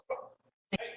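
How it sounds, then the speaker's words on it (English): A dog barks twice, close by, in short sharp yelps about half a second apart, with no talking over it. "I apologize for my dog barking."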